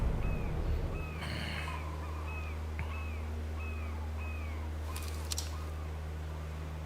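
In the fishing game Fishing Planet, birds call again and again over a low, steady hum while grouper are targeted from a boat. The short caws come at a fairly regular pace, moderately distant.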